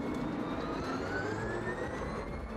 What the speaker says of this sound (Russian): У него тоже есть свой характерный звук, когда вы разгоняетесь.